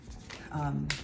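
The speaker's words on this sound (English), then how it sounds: "So with these cards, I'm just gonna shuffle up and see what comes out." Tarot cards being shuffled by hand, giving short, soft papery riffles and a brief crisp burst near the end, mixed with nearby voice sounds.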